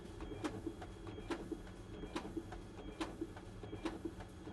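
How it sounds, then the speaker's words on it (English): A ballot scanner's document feeder pulling a batch of ballots through, a quiet, steady mechanical whir broken by regular clicking ticks as each sheet passes. "Batches of 40 to 60 ballots work best with the document feeders currently in use."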